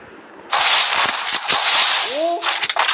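Gunshots ring out in a shooting video game as a few sharp, close cracks and bursts over a crackling wash of game sound. A short tonal sweep is heard near the end.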